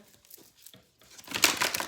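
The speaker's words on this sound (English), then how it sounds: "So let's get a few shuffles in for this here." Tarot cards are shuffled: faint papery flicks at first, then a louder, rapid riffling burst close by.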